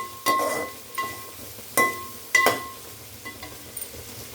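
Prawns frying in oil in a pan, heard as a soft background sizzle broken by several sharp clinks and scrapes of a utensil against the pan at irregular intervals.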